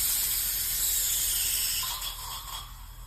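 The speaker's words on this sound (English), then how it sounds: "this green button is just gonna trigger the spray here" Spray nozzle released by pressing a green button during a fomite test, giving a strong continuous hiss that holds steady for about two seconds, then weakens and sputters, with no talking.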